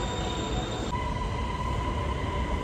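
A train pulling into a Thai rail station, its steady rolling rumble and metallic hum filling the clip alone, with a tonal shift partway through as it slows at the platform.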